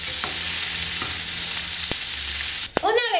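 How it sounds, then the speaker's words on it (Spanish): Sausages fry in a pan for a chipotle sausage snack, a steady hiss running throughout with a few sharp clacks of stirring and a louder scrape near the end. "Hasta que se doren ligeramente. No olvides moverle para que se doren por todos lados."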